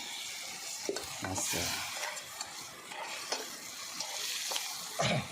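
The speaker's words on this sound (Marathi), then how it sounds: "त्याच्यामध्ये आपण पाणी टाकणार आहे." Water hits a hot pan of frying crab and fish, giving a steady hiss and sizzle broken by scraping stirs and light clinks of a utensil against the pan. A single brief spoken word is heard.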